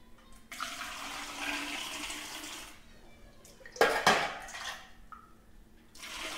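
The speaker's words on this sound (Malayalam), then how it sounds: "അതിനുശേഷം നമ്മൾ ഉപ്പും മഞ്ഞളും ഇട്ട് തിളപ്പിച്ചാറിയ വെള്ളം ഇതിലേക്ക് ഒഴിച്ചു കൊടുക്കാം." Cooled boiled water with salt and turmeric poured onto ripe mango pickle: soft running and splashing liquid in uneven bursts, with a louder splash midway and no voices.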